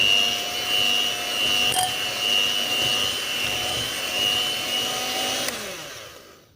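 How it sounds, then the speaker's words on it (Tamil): An electric mixer beats butter and powdered sugar for biscuit dough, producing a loud, steady motorized whine with a high tonal hum, running continuously up close before winding down at the end. "பவுடர் சுகர் சேர்த்துட்டோம், இதை பீட் பண்ணிக்கலாம்."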